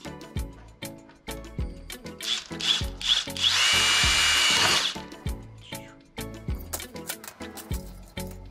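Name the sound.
electric drill boring a hole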